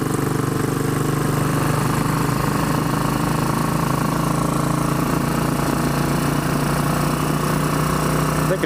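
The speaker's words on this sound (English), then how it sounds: "tonight we take a spin on the old Bullet" A Royal Enfield Bullet 500 single-cylinder motorcycle engine runs steadily up close, a loud continuous thumping drone with even mechanical chatter and no pauses.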